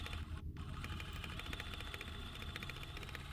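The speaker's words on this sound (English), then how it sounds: "I'll just bring you along as I do some quilting in this area." A sewing machine stitches quilting through layered fabric around a design, running as a steady, busy mechanical whir with rapid needle rhythm throughout, close and continuous with no talk.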